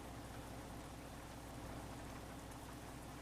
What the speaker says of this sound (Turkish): güzel de bir yağmur yağıyor, atıştırıyor